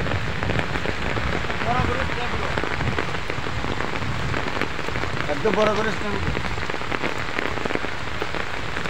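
Heavy rain drums steadily on surfaces across a flooded village, a dense and continuous patter close by, with faint voices briefly under it.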